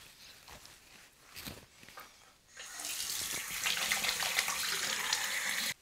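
Water runs from a sink tap to wet cleansing pads during an evening makeup-removal routine, starting after a few quiet rustles and soft handling sounds and then flowing as a steady close splashing stream until it stops abruptly.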